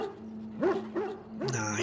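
Dog in the Dragon Age Origins video game giving a few short whimpering yips and barks, close and moderately loud, with a steady low hum beneath.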